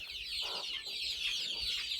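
Backyard hens, including Cochin chickens, cluck softly in a few short, low calls over a quiet outdoor background.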